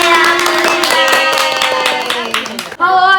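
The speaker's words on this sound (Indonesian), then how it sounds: "tepuk tangan untuk kita semua" Hands clap in quick rhythmic bursts while children's voices chant along in a classroom, close and fairly loud.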